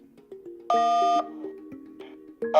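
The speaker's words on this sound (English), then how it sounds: "Do not worry, your alarm telephone is dialing for assistance." A careline alarm telephone dialing for assistance, giving a series of short electronic tones and beeps with a longer, louder harmonic tone in the middle, clear and alone.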